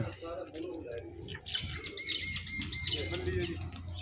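Birds calling around a dairy farm, with busy chirps and tweets plus some cooing, heard under steady nearby talking and background noise.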